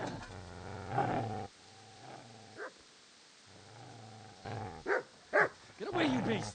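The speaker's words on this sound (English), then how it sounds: "Get away, you mutt!" A dog barks and growls in Kingdom Come: Deliverance, with loud, close bursts of snarling and short barks separated by quieter gaps, and louder yelps near the end.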